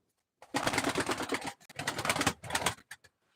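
A light blue-speckled pigeon at a live pigeon auction gives two longer rough, breathy bursts and a brief third, close by, with quiet in between.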